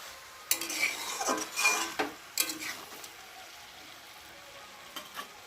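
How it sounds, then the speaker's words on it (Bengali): Fish and Malabar spinach curry is stirred in a pan, with a handful of scraping, clinking strokes over a soft sizzle that settles into quiet with a few light taps at the end. "দিয়ে একটু ভালো করে নেড়ে দেবো"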